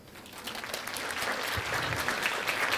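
An audience at a design-thinking marketing talk breaks into applause, rising quickly and holding as steady, dense clapping for a few seconds with no talk over it.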